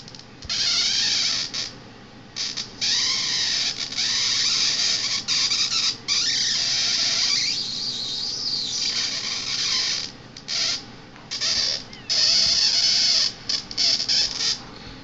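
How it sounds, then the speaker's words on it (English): High-voltage arcs about half an inch long from a 2N3055 flyback transformer driver, a loud harsh crackling buzz in bursts separated by short breaks, with no talking. "So these arcs are about a half inch long"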